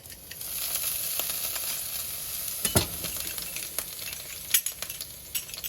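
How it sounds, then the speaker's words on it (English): Eggplant sizzles in a hot pan, a steady close frying hiss with occasional sharp pops and crackles, with no voices over it. "You hear that? A little sizzle."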